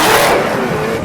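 Dodge Charger with a 6.4-liter Hemi V8 at high speed on a highway, a loud, brief roaring rush of engine and road noise that fades slightly toward the end.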